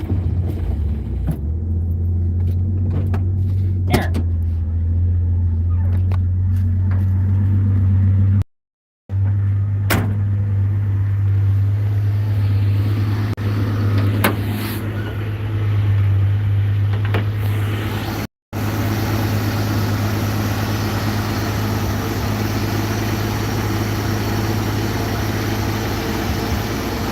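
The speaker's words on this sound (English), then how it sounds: "this thing is dialed in when it comes to the tuning of the carburetor. Like, it actually idles" A car engine with a freshly tuned carburetor idles steadily with a low, even rumble, close by and mostly alone, with a couple of brief dropouts and faint clicks.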